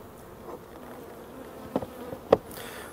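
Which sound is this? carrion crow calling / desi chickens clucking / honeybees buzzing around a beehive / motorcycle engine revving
honeybees buzzing around a beehive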